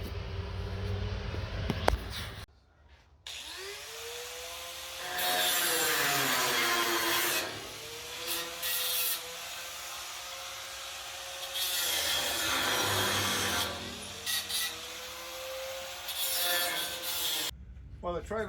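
Old screws left in a trailer frame are cut off with a tool whose loud, sustained grinding rises and falls across three long passes, each followed by a winding-down whine, with short pauses between passes.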